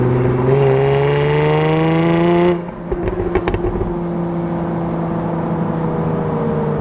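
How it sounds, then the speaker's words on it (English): Jaguar F-Type with a supercharged 3-liter V6 revs hard with a rising, loud exhaust note, then drops off sharply and settles into a steady idle rumble with a few pops and crackles. "It's a good sounding car."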